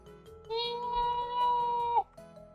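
Drawn-out cat meow in the video game Tales of Black Forest, one long, clear, tonal cry that holds steady and bends downward at the end, alone over quiet background.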